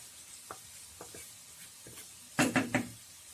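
Mutton masala being stirred in a pan over a low flame, a few soft scraping strokes followed by a quick burst of three louder spoon knocks and scrapes, all quiet and close.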